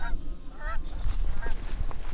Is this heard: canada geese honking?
yes